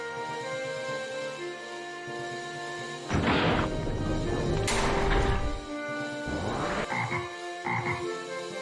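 Frog croak sound effect from an RPG Maker MV game, heard as a couple of loud, raspy croaking bursts over quiet background music, with a shorter croak near the end.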